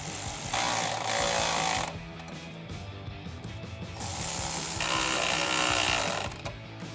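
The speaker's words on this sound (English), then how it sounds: "we can take our 10mm socket to tighten down our clamps" 10mm socket on a ratchet tightening hose clamps on a cold air intake, rapid clicking ratchet bursts in two main runs separated by a quieter stretch, close and fairly loud with no talk.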